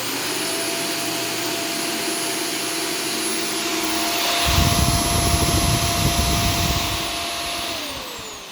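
A Shark Stratos upright vacuum cleaner running on living-room carpet in standard carpet mode: a loud, steady motor whine that swells partway through into a rougher, fuller roar as the brush roll engages, then eases slightly.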